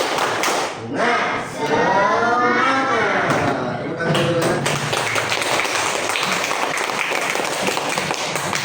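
A fourth-grade classroom of children does the rhythmic 'tepuk semangat' cheer. Young voices chant together in unison first, then a burst of close, dense clapping follows and keeps going, with light taps and thumps mixed in.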